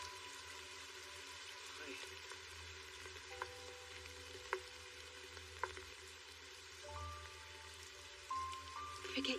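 Heavy rain pours steadily in an animated drama scene, a dense, even hiss of falling water with a few faint tonal effects and light clicks layered over it.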